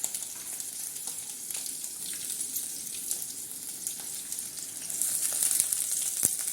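Chillies fry in hot oil in a pan for Telangana-style chickpea sundal, a continuous close hiss and crackle of moderate loudness that swells slightly toward the end.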